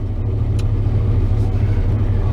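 Chevrolet S10 engine idling rough with ignition timing set too far advanced, a loud steady low rumble close by with faint higher whines, running alone without talk.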